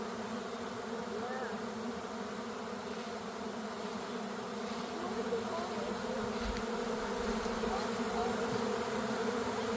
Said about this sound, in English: surrounded by bees right now.